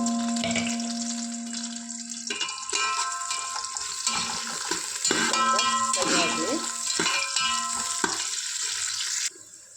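Long-cut slices of a large onion fry in a spoonful of oil in a pressure cooker, a close, continuous sizzle with stirring scrapes and a steady humming tone running underneath.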